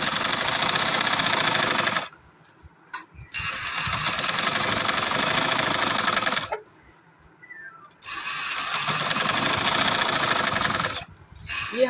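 Sewing machine stitching the neckline of a designer suit, loud sustained motor whirring in three long runs separated by brief pauses with light fabric handling.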